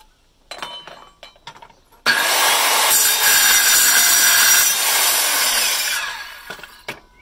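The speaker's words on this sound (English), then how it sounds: "Straight through the rebar, cold cut, and then we're back onto cutting wood again on the same blade." An Evolution F165CCSL circular saw cold-cuts through a piece of steel rebar, with a few light knocks, then a loud, sustained grinding howl for about four seconds that winds down, close and dominant.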